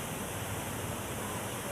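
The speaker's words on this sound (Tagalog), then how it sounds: "Buhay na buhay po ang dumadaloy na tubig" Water flows steadily at Tamaraw Falls in Puerto Galera, Mindoro, a dense, even rushing wash filling the whole moment, close and unbroken, with no voices.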